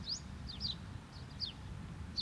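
Small birds chirp outdoors in faint, brief, high tweets scattered every half second or so over a low, steady background rumble.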